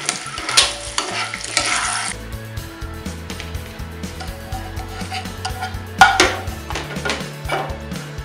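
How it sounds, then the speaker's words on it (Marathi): Eggs sautéed in a pan for an egg masala dish give a soft sizzle, with repeated scraping stirs and light clinks of utensil against the pan, uneven bursts close to the microphone. "साधारण हलक्या लाल रंगापर्यंत आपल्याला ही परतून घ्यायची आहेत"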